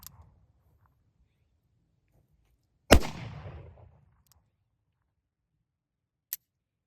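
Single gunshot from a black powder cartridge loaded with plated bullets, a sharp loud crack with a short decaying rumble, followed by a faint click, otherwise quiet outdoors.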